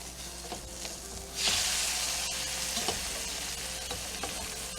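Eggs sizzle steadily in a hot pan, with a sudden louder hiss partway through and a few light clicks of a utensil.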